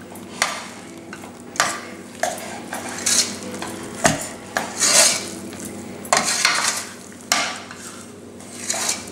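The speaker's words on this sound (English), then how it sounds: "So all you have to do is mix it, stir it so that it's mixed thoroughly." A spoon scrapes and knocks around a pan as a thick cashew barfi mixture made with ghee and syrup gets stirred, in repeated close clinking strokes over a faint sizzle, with no voices.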